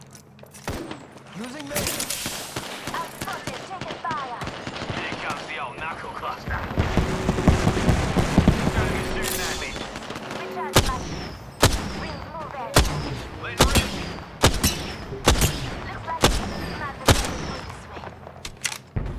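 Video game gunfire, with the player's character under fire in a ring area: dense bursts of shots and booms through the first half, then a run of sharp separate shots at a steady pace, mixed with a voice talking.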